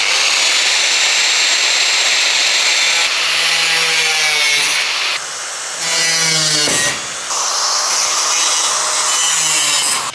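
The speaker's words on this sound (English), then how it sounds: "the grinder I'm going to use is a Makita" A Makita 4-inch angle grinder fitted with an Irwin 1.2 metal cutting disc screams loudly and continuously up close as it cuts, its pitch shifting under load, with brief dips where the disc eases off.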